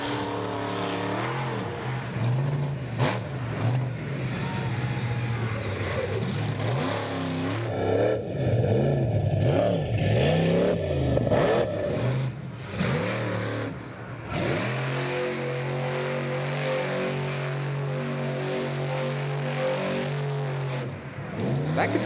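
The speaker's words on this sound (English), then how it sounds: "Smoky, dusty donut right on the edge of the track" A monster truck engine at an Indianapolis drag event revs hard while spinning a donut, loud sweeping roars rising and falling in pitch, with a burst of heavier throttle midway and a steadier drone toward the end.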